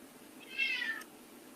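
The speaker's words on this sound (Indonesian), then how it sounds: "sorry saya teriak-teriak sampai kucing saya juga ikut teriak ya" A pet cat gives one loud, drawn-out meow, rising then sliding down, close by against a quiet room background with no talk.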